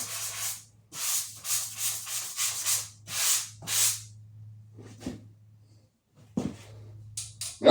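Rhythmic back-and-forth rasping of drywall being hand-sanded to smooth out imperfections, close and fairly loud, in bursts separated by pauses, over a steady low hum.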